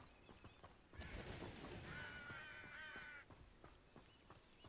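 Crows caw repeatedly in a Hogwarts Legacy game scene, a rough raspy calling run that swells loud for a couple of seconds before dropping back to quieter ambience with soft clicks.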